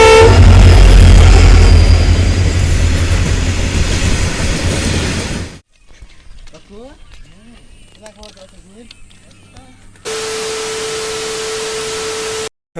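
Train rolling past at close range in a forested area, a loud, dense rumble for about five seconds that fades out, followed by quieter scattered sounds and a steady tone near the end.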